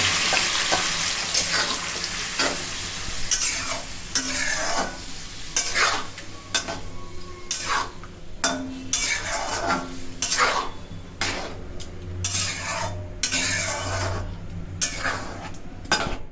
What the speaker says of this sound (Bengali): এবার ওই ম্যারিনেট করা যে মাংসটা ছিল সেটা দিয়ে দেওয়া হলো।